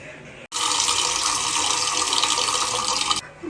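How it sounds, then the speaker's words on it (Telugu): Toor dal (pigeon pea lentils) being rinsed under running tap water, a close steady rush of water that starts abruptly and stops after about three seconds. "కందిపప్పు కూడా శుభ్రంగా కడిగేసుకుందాం"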